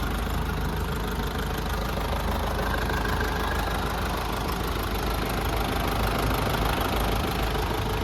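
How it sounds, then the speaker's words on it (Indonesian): Toyota Land Cruiser FJ40 hardtop fitted with a swapped 14B diesel engine, idling steadily with a loud, continuous knocking clatter and low rumble, close to the microphone and with no talking. "mobilnya udah pakai mesin diesel, udah swap engine"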